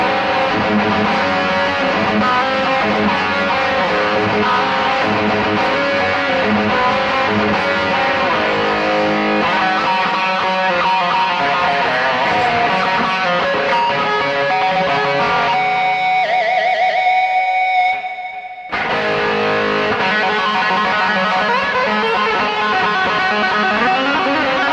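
An electric guitar plays through a BOSS eBand JS-10 effect with the rate lowered to 42, producing a loud, heavily distorted riff that continues for a long stretch, broken by one abrupt cut before the playing resumes.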